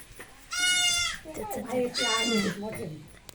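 Two loud, high-pitched bleats from a day-old goat kid, close by, the second longer and wavering, with a short quieter call after.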